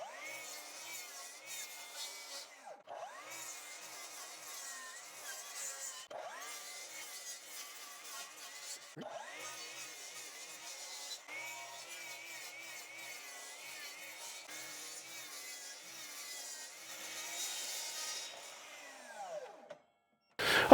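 A hand saw cuts wooden boards to length in long, steady rasping strokes with short pauses between passes, close and fairly quiet, with no talk.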